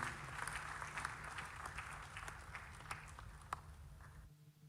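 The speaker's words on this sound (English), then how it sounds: "Please help me with a big round of applause to welcome the Honorable Felix Kwakye Ofosu" Audience at a media awards ceremony applauding a minister's welcome, a fairly faint, dense clapping that fades out at the end.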